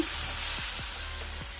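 Small tomato pieces frying in a pan with browned onions, a steady hissing sizzle that stays close and even, with a few soft stirring scrapes and no talking.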